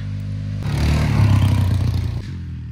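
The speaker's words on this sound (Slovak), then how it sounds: "A počujem tu nejakú štvorkolku alebo motorku." A quad bike or motorcycle engine passes near a forest campfire spot, rising into a loud, rough rumble with some clattering, then cutting back down to a steady idle-like drone.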